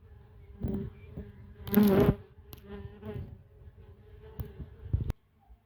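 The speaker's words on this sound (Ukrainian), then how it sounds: "Дивіться, як оси зробили собі гніздо." Wasps buzz around their nest, hovering near and drifting off in a series of irregular droning bursts, one louder pass standing out, fairly quiet overall with no talking.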